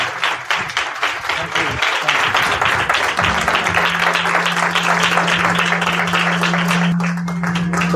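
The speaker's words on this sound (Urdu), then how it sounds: "آپ کی زوردار تالیوں میں" A church gathering's audience applauds loudly to welcome Pastor Shahzad, with dense, steady clapping filling the whole stretch and a sustained low tone running beneath it from partway through.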